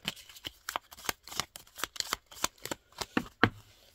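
A deck of tarot cards is shuffled by hand in quick, uneven bursts of riffling and sliding, close and clear, with no one speaking.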